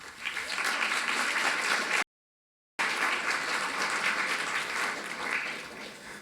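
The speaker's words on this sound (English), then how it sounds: "Round of applause for that." Closing ceremony audience applause: a sustained, fairly distant wash of many hands clapping, briefly cut out partway, then resuming and gradually fading.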